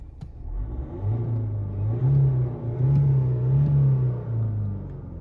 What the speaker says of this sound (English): let's put it on neutral first give it a little rev